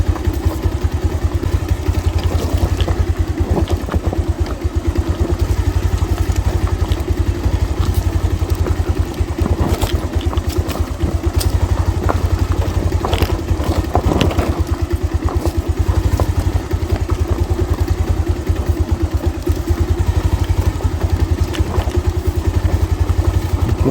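Motorcycle riding along a village road, its engine chugging steadily and loudly close by for the whole stretch, with faint clatter and no talk.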